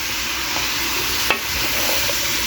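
Onions frying and being stirred in a hot pan, a steady broadband sizzle with a brief scrape or clink of the utensil near the middle, close and continuous with no talk.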